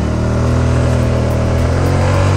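Steady engine drone of an Italika D125 LT 125 cc scooter on a test ride, a continuous close mid-pitched hum with low harmonics holding even throughout, no talk over it.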